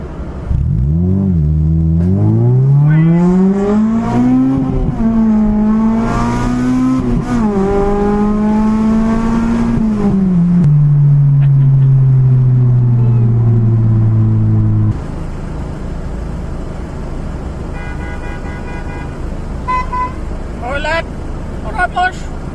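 Nissan K12 car revving and accelerating along a road: a loud, close engine note climbs through the gears with rising and falling pitch, then drops to a steady lower drone before road and cabin noise take over, with voices talking over it.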